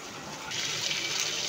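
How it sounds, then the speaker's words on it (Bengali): Water poured steadily into a cooking pan for braising in a home kitchen, a brief close continuous splashing gush. "একটু হালকা জল দিয়ে নিচ্ছি কষানোর জন্য"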